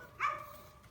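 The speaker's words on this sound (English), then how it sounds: "This is a puppy" A young poodle gives one short, high bark, near but fairly soft, against a quiet indoor background.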